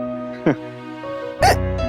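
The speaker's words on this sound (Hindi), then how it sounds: "ये बार बार हिचकी, ये हिचकी भी ना बार बार" Two sharp, loud hiccups about a second apart, the first short and clipped, the second stronger with a voiced catch, over a steady low hum in an indoor scene from a Hindi TV drama.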